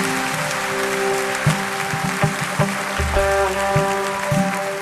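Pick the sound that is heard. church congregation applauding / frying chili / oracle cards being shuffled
church congregation applauding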